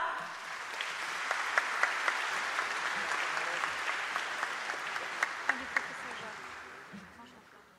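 Sustained audience applause at an anniversary gala on stage, a broad wash of many hands clapping steadily with a few sharper claps standing out, fading slightly toward the end.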